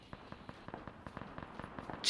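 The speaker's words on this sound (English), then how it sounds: "There's a lot of gunfire to the west." Rapid bursts of gunfire in the video game PlayerUnknown's Battlegrounds crackle in irregular volleys, sounding distant and fairly faint, with no voices over them.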